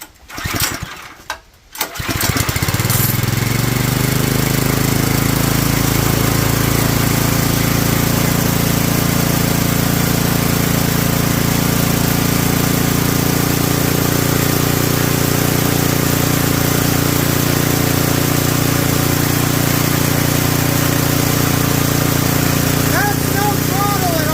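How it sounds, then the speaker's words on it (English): A lawn tractor engine on a go kart being converted to propane, running without choke, cranks briefly, catches, and settles into a loud, steady, close idle drone that holds to the end. "Right now, we're down on idle, no choke."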